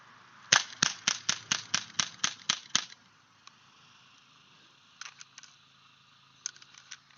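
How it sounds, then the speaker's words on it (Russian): A Makarov PM49 air pistol fires a rapid string of about ten sharp, close cracks, then falls quiet except for a few faint clicks and small knocks. "Я, наверное, оставшиеся патроны достреляю куда-нибудь."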